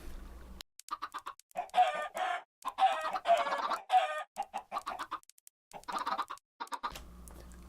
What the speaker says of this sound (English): You saw my chickens in there not having a very pleasant time